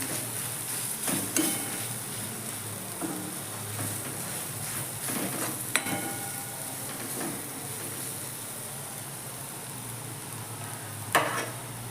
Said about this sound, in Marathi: धने पावडर सर्व घालून घेऊया चांगलं मिक्स करून भाजून घ्यायचे